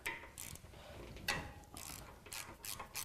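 A hand tool ratchets in short bursts while loosening a T40 bolt on a motorcycle's lower triple tree, quiet clicking close by with brief pauses between strokes.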